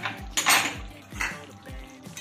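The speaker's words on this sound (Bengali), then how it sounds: "আমি কিন্তু মাছটা ধরে মানে কড়াইটা ধরে আমি আরো একবার একটু নাড়িয়ে দিলাম" A kadai of pabda fish curry is shaken and stirred on the stove, giving a series of metallic scrapes and clanks in an uneven rhythm, close and fairly loud, with no talking.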